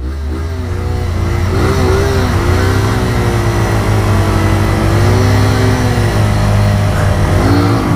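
A car accelerating hard off the line in a street race against a Mustang, the engine revving up and down through repeated rising surges, loud and close.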